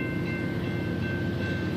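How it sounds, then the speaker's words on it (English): A train rolling past at a level crossing gives a steady, close rumble of rail cars, with a constant low roar and a faint tonal hum that carry through the short stretch without a break. "I can hear two trains coming"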